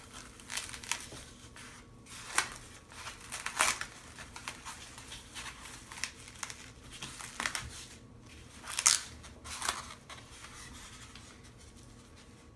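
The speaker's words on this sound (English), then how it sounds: "We're just going to tear this plastic wrap off." Plastic wrap is torn and peeled off a styrofoam record mold: quiet crinkling and rustling with a few sharper ripping bursts, sparse and close, over a faint background hum.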